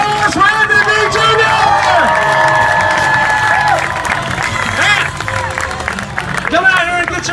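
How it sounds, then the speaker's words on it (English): Crowd applause and cheering in a gym at a college homecoming basketball dunk contest, loud and sustained with shouts and whistles over dense clapping, and an announcer's voice mixed in. "Let's hear your applause for Anthony Beane Jr."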